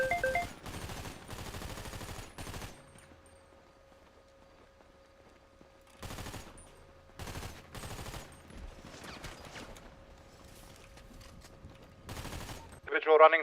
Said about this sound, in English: Across the street there's an individual firing from the south side.